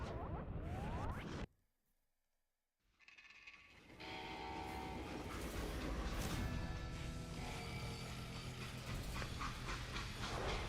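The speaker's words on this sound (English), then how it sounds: "Now, how'd they stop this train in the first place?" A train in the western video game Call of Juarez: Gunslinger sounds a whistle and screeches over the rails. After a short near-silent break, a loud, dense rumble of rolling rail cars with squealing metal takes over.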